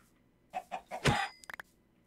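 A chicken in the Minecraft video game gives a short burst of clucks, a few separate soft notes followed by a quick cluster of sharper ones, with no talk.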